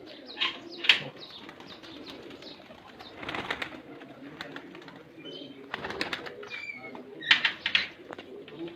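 Pigeons coo in soft repeated bursts at a pigeon-keeping show in Bahawalpur, with chirps and faint wing flutters mixed in, while people talk intermittently nearby.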